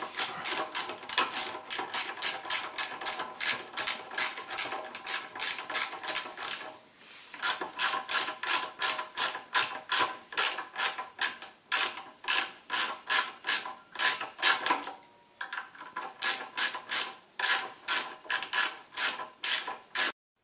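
A ratchet wrench with a 12 mm socket tightens a bolt on a 2020 Suzuki GSX-S 750 motorcycle during front tyre work: rapid, loud metallic clicking in repeated bursts, with two brief pauses, and no talk.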